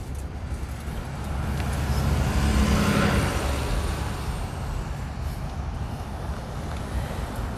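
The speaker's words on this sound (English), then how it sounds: "Look at this, the Canmore local bus." A Canmore local bus passes along a snowy street, its engine rumble swelling to a peak midway and then easing into a steady background drone, with no talking.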